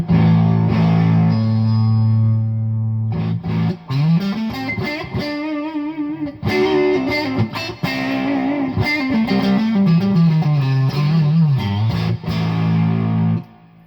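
Electric guitar played through a Quilter Tone Block 202 amp head with the limiter switched off, loud and driven with distorted chords and sustained bends, strummed in bursts with brief gaps across about fourteen seconds.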